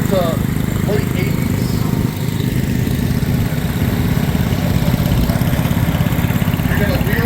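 A late-1980s John Deere 332 lawn tractor engine runs steadily close by at a show in Sycamore, Illinois, a loud continuous low idle-like drone with no break in its rhythm.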